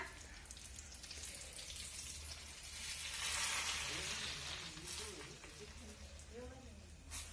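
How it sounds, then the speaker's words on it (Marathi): Dal tadka with chillies, home-style, sizzles and bubbles in a pan: a steady broadband frying hiss that swells in the middle and then eases, with a faint voice underneath. "इकडं आपल्या तडक्याला पण उकळी आलेली आहे चांगली उकळी येऊन द्यायची एकदा"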